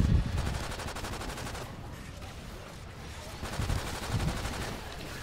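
Gunfire in the Call of Duty Ghosts Extinction game, a steady run of rapid shots and bursts that lasts the whole clip at moderate loudness, heavier near the start and end, with a little voice mixed in.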